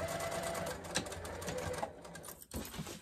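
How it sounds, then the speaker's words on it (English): Sewing machine running steadily as it stitches a half-inch seam down the side of a fabric car trash bag, a continuous close mechanical whir with a brief pause near the end. "So now I'm going to continue sewing that half inch all the way down the rest of the bag."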